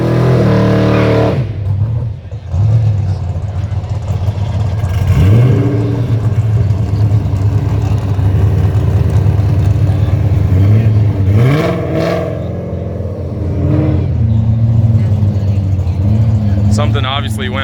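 A muscle car revs hard on Woodward Ave while trying for a burnout that fails to catch, its loud engine roaring and surging in waves through nearly the whole stretch, with a crowd talking over it.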